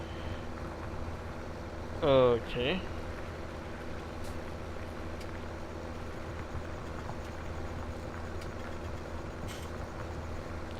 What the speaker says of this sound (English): the tractor is still loud